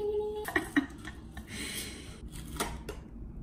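Cutting open the package of a Japanese chocolate truffle: a few sharp, close clicks and crinkly plastic rustles in short bursts, with no talking.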